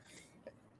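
A person with a cold clears their throat faintly, then lets out one short, sharp cough at the end, close and loud after near silence.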